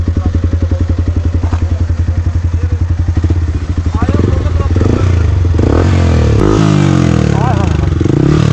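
A Yamaha R15M motorcycle fitted with an Akrapovic exhaust, idling with a rapid even pulse and then revving loud and close as people talk over it.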